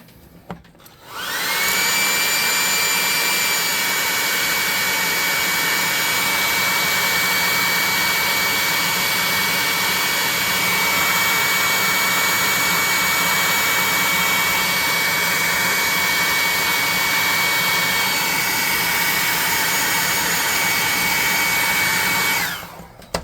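A heat gun blows hot air onto a painted miniature wolf model, a loud, steady whirring roar with a high whine that starts abruptly, runs unbroken for about twenty seconds, then cuts off.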